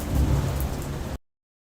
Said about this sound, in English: I gotta just see if you can hear the rain.